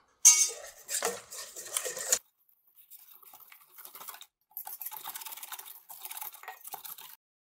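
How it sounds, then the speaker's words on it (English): Okonomiyaki batter being whisked in a large bowl, a burst of rapid clinking metal-on-bowl strokes for about two seconds, then quieter, lighter scraping and tapping bursts following, close and with no voices. "we'll whisk it together until it's smooth"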